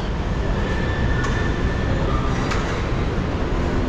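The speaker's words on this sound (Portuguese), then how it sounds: "Estação Pinheiros do metrô" A metro train at Pinheiros station in São Paulo gives off a loud, steady rumble with faint wheel squeal and clatter, filling the whole stretch.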